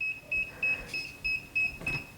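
A mug press timer beeps in a steady repeating pattern, about seven short, clear electronic beeps at even intervals, moderately loud and close, with no talk over it.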